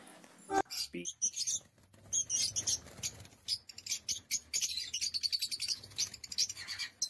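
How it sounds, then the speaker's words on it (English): A parrot gives a run of short, bright chirps and squawks in quick bursts, fairly close and fairly loud. "P for parrot"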